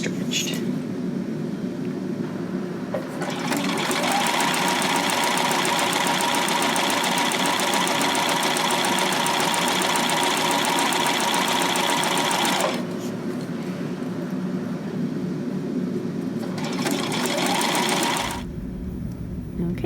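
A sewing machine runs a zigzag stitch along elastic for a Dahlia Hipster garment, humming in one long steady run, then stopping briefly before a second shorter burst of stitching.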